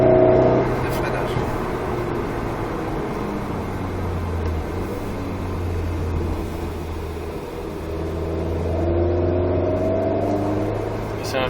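A four-cylinder car with a tuned exhaust accelerates on a circuit at Croix-en-Ternois. Its engine note drones steadily and rises toward the end, heard from inside the car under intermittent talk.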